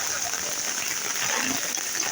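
Steady heavy rainfall fills the air with a thick, continuous rushing hiss, near and unvarying, water gushing faintly beneath the constant patter.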